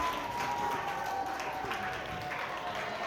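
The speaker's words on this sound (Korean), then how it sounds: "박수!" An audience at a church book talk gives a short round of applause, a soft, even wash of clapping heard from a distance in a hall, continuing steadily for a few seconds.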